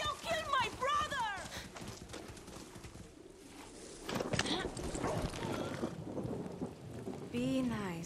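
Horse galloping in the video game Far Cry 6, rapid hoofbeats rumbling beneath stormy rain-like noise, with character voices and shouts heard over it.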